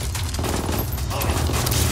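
Rapid bursts of gunfire in the video game Tom Clancy's Ghost Recon crackle continuously, with faint voices mixed underneath.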